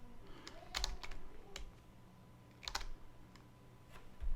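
Keys clack on a computer keyboard in short bursts of quick taps with pauses between them, close and fairly quiet, with no talking.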